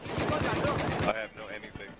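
Rapid gunfire in a first-person shooter match, with dense close shots for about a second before it drops back to scattered sounds while a player talks over it.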